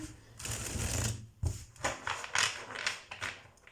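Tarot cards being shuffled by hand, close up, in repeated riffling and sliding bursts with brief pauses between them.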